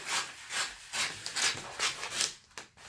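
Scissors cutting through wrapping paper for a gift box, a close series of rasping, rubbing strokes in an irregular rhythm of about six cuts, with no talking.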